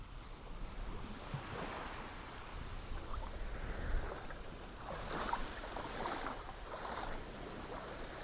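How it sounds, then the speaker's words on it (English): Gentle waves lapping at a beach's edge, a soft, quiet wash that swells and recedes in slow surges, with faint splashes rising now and then. "walk to the water's edge and stroll along in the lapping waves slowly"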